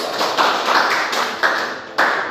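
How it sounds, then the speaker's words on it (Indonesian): Students in a classroom clap for a group, a brief burst of moderately loud clapping with a few sharper claps standing out near the end. "Tepuk tangan untuk kelompok"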